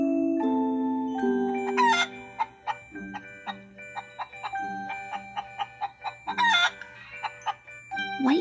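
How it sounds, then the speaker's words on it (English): Chickens cluck in a series of short, sharp calls mixed with drawn-out crowing-like cries, close and fairly loud, with no talking. "White feathers mark where chickens trod and pecked and scratched and clucked."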